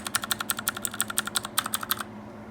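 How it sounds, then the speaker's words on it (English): Fingers type quickly on a mechanical keyboard with clicky blue switches, a close, crisp run of about twenty sharp clicks in a steady rhythm that stops abruptly, with no voices. "I love the clicky switches"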